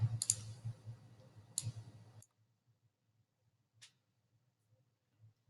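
Computer mouse clicks on a Save button: a few sharp, close clicks in quick succession, then a lone click after a pause over a quiet, faintly humming room.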